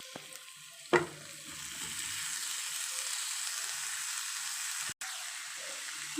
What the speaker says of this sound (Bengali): আমি সবজিগুলোকে একবারে শুকনো করে ভেজে নেব